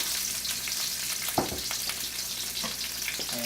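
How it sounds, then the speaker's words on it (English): Bok choy and other vegetables sizzle and crackle steadily in a hot wok over a gas flame, with occasional scraping clatters as they are stirred around against the sides. "You're going to stir these around against the sides of the wok."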